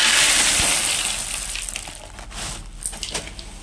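Clay balls pour into a plant pot in a rushing, rattling cascade that is loud at first, then thins into scattered clicks and settling rattles.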